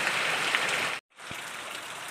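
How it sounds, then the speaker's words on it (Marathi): Heavy monsoon rain pours down in the Konkan, a dense, steady roar of downpour close by, broken by one brief gap in the sound before it resumes just as strongly. "पावसाचा जोराचा पाऊस चालू आहे"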